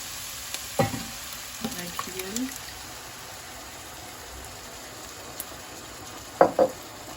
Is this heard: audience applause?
no